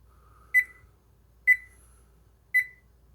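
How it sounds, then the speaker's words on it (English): An oven timer, set for thirty minutes while meatloaf and potatoes cook, gives three evenly spaced, clear electronic beeps about a second apart, close and distinct over a quiet kitchen background. "Set the timer, 30 minutes."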